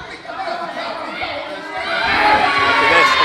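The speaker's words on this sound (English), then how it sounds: "St. John getting the crowd behind Jordan Sparks, and they are cheering his name" A wrestling crowd at an indoor live show cheers and shouts for a wrestler, a dense roar of many voices that grows louder toward the end, with individual calls poking through.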